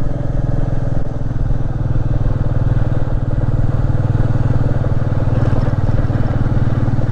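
A Royal Enfield Meteor motorcycle engine pulls steadily uphill in second gear on a rocky road up to Sinhagad Fort, a loud continuous low rumble with a faint rattle and no pauses.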